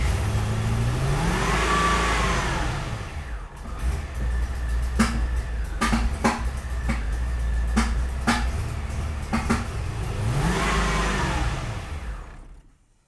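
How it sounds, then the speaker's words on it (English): A C4 Corvette engine idles roughly with irregular sharp pops, its revs swelling up and falling away at the start and again near the end, loud and close with no talking. "not idling good at all now. And it keep popping as if timing moved a bit."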